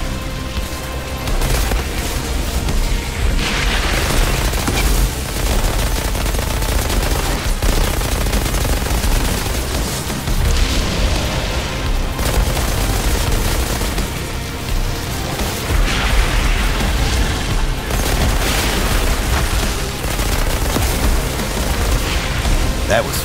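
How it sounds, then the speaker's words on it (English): Firestorm ability explosions in the video game Outriders Worldslayer roar continuously as dense, loud booming and crackling gunfire, with a voice speaking over the din. "It summons a violent and homing firestorm to deal damage and inflict an extra crispy burn on enemies."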